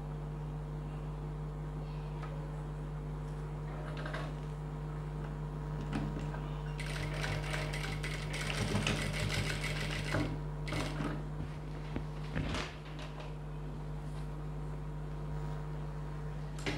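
A sewing machine stitches a boat neck blouse, a rapid mechanical whir rising for a burst of several seconds over a steady electrical hum, with quieter clicks and handling before and after.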